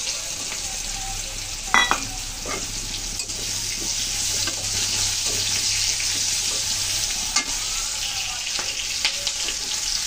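Green chillies fry in a pan of oil for a hilsa fish dish, a continuous close sizzle broken by a few sharp utensil clinks and taps.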